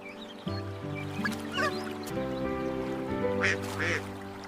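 A cute yellow baby goose on a farm calls in a steady run of quacking, honking cries, close and fairly loud, with a few sharper higher calls near the end.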